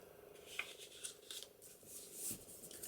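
Scissors snip and trim paper while an envelope is being made for a craft project, giving a few soft, close cuts and light rustling at a quiet level with no talking.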